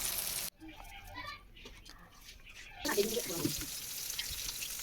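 Eggplant sizzles in hot oil in a wok in a home kitchen. The frying is quiet, cuts out briefly near the start, then returns louder with some stirring and clatter.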